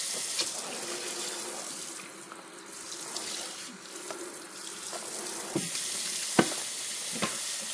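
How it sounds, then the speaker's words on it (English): Running water from a tap rinses a dog during a bath, a continuous splashing flow with a few sharp knocks and drips toward the end, heard alone without talk. "Now it's time to rinse them out."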